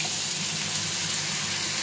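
Ground green kohlrabi peel paste poured into a pan gives a steady, even hiss close by, with no talking.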